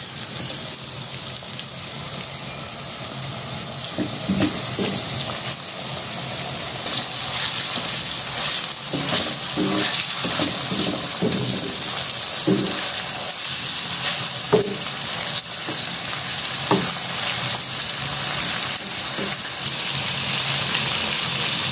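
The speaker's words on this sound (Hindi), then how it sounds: "छः से सात मिनट तक हम इसे सॉटे करेंगे" Mutton liver sautéing on a hot tawa gives a steady, loud sizzle throughout, with scattered scraping and stirring knocks from a spatula on the iron surface and no voices.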